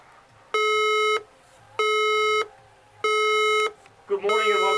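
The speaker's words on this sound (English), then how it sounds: "An alarm has been activated in this building." Building alarm sounding three long, loud electronic beeps at an even pace, each about half a second, followed by a voice starting to speak.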